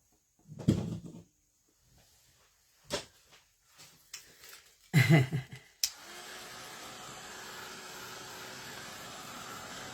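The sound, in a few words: drying scrapbook spray with a heat tool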